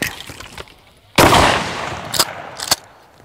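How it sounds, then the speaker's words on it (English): Gunfire during a round of Russian skeet shooting: one loud, sharp blast followed by a long rumbling decay, then two more sharp shots in quick succession, all close and prominent. "thought we'd do a little Russian skeet shooting"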